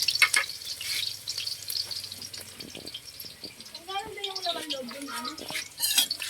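Chunks of blue marlin go into a pan with garlic and ginger for tinola, and a bright, crackling sizzle with stirring scrapes follows while someone talks over the cooking.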